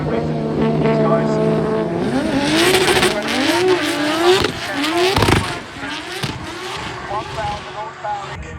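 A 1,000-horsepower rotary-engine drift car revs hard at a drift festival, its high, buzzing engine note rising and falling in rapid waves, loud and close, with crowd chatter and voices underneath.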